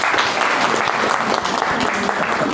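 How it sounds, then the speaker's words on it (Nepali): Steady, dense applause from a seated audience at a business training session in Nepal, continuous and fairly loud throughout with no pauses, filling the room from start to finish. "एकपटक जोरदार ताली"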